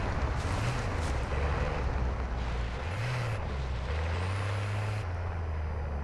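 A vehicle driving in Warzone 2, a steady low engine drone that rises and falls in pitch as it revs, heard at moderate distance over constant wind-like noise, with no talking.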